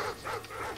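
A short burst of dog barking in the video game Modern Warfare 2, slightly muffled and electronic, heard alone without any talking.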